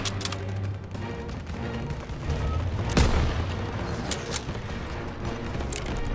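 Gunfire in a World War II street battle in Call of Duty WWII, a steady crackle of rifle and machine-gun shots with one sharp, loud blast near the middle, plus more scattered reports.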